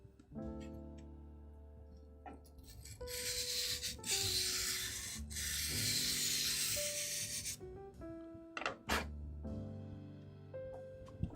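A gritty Leica R camera lens mechanism is turned, making close, rough rubbing and scraping bursts that come and go over several seconds, separated by short pauses.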